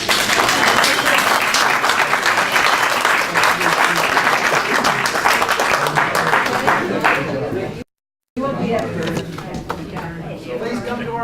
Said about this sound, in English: So we'll give a round of applause to everybody.